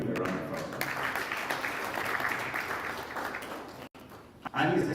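Applause at a retreat on the NIPSS strategic plan in Nigeria, a steady broadband wash of clapping from an indoor audience lasting about four seconds before a brief drop and a short burst at the end.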